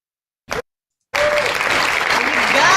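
A canned applause effect triggered from a button, a brief burst and then a sustained wash of crowd clapping and cheering, loud and close, after a moment of silence.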